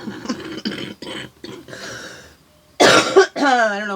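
A person coughs harshly in a loud close burst, then makes a strained, wavering throat sound, following a stretch of plain talk.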